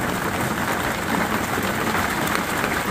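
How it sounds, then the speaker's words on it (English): Small hail clatters in a dense, unbroken patter in Glendale, Arizona, close and fairly loud, with no voices. "It's not very big, but we got hail."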